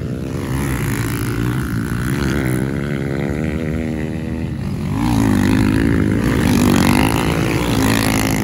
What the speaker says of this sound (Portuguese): Ó o Vini aí, ó, com a motinha original